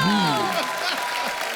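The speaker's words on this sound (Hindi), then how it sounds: "सो जोरदार ताली" A studio audience at a Hindi comedy talk show claps hard, a loud crowd burst. Talk and laughter overlap the clapping at first, then the applause carries on as a dense, steady roar.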